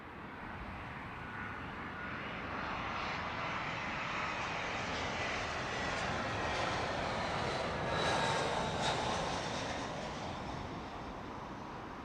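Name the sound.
British Airways Airbus A319 landing at Heathrow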